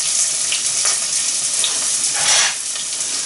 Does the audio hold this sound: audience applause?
no